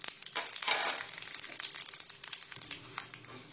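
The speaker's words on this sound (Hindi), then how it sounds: "तेल गरम हो गया है, इसमें सरसों डालेंगे, उड़द की दाल डाल देंगे," Mustard seeds, urad dal and curry leaves crackle and sizzle in hot oil in a pan, a dense, close, continuous spatter with sharp pops over it.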